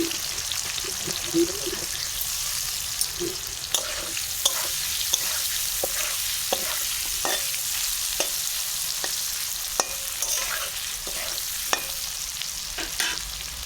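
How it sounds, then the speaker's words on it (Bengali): Potatoes fry lightly with salt and turmeric in a pan, with a steady close sizzle and frequent sharp stirring clicks scattered across the whole stretch. "আর যে একটু লবণ হলুদ দিয়ে যে ভেজে নেন হালকা দিলে"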